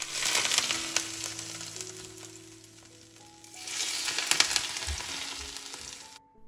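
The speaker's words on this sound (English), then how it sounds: "then my dad carefully poured on the boiling oil" A loud, hissing sizzle rises as boiling oil is poured over steamed fish with ginger and spring onion, fades, then surges again in a second crackling burst before cutting off.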